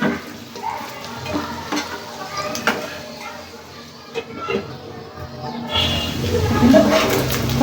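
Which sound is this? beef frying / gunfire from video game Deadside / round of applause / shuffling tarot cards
beef frying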